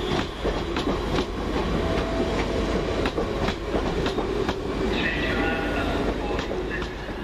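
A train coming in from Walsall to terminate at Wolverhampton station rumbles and clatters nearby, with repeated wheel clicks over rail joints and a faint high squeal later on, over a steady mechanical drone.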